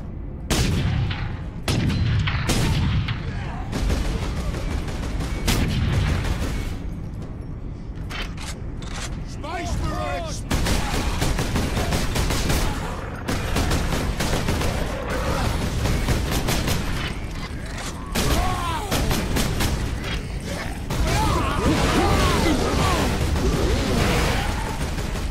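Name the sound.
gunfire from shooting squigs in the video game Space Marine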